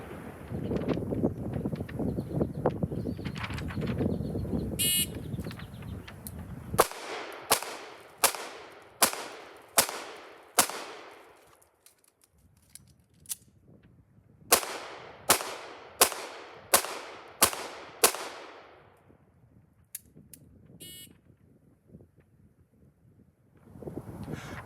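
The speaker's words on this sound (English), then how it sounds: "I'm going to draw and fire 6 rounds into the body of the target, then sidestep to my left, reload, and fire 6 more rounds" A Smith & Wesson 469 pistol fires six rapid shots at a target, falls quiet during a sidestep and reload, then fires six more, each report sharp, loud and close, set against wind noise with no talk.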